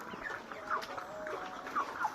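Heat-stressed chickens soaked with water make soft, intermittent clucks and murmurs, moderately distant and fairly faint over a low, steady background hum.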